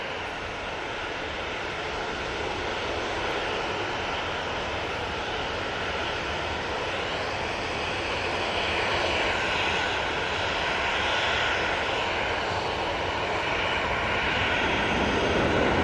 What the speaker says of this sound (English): That's off to Paris Charles de Gaulle Airport.